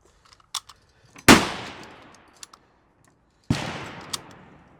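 Two loud, sharp rifle shots from a Soviet SKS, spaced about two seconds apart, each followed by a decaying outdoor echo, with a few small clicks and handling taps in between.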